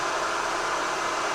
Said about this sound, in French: la bouilloire, le sèche-cheveux était déjà en route